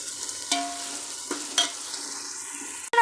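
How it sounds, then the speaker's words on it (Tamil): Tomatoes sautéing in a pan, a soft continuous sizzle punctuated by a few sharp scrapes and clinks of a stirring spoon, close by, ending in a louder clatter. "தக்காளி சேர்த்து வதக்கிக்கலாம். ஓகே, இது நல்லா வதங்கட்டும்"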